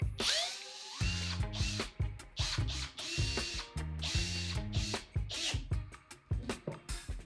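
A screw driven into wood with a power drill for a DIY fastening demo, giving a close, loud run of rapid ratcheting clicks and whirring bursts that stop and restart repeatedly with no talk.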